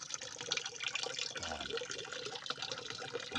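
Water dripping and trickling from a tree-fed spring high on a mountain, a steady close wet patter with no clear pauses, moderately quiet and continuous throughout.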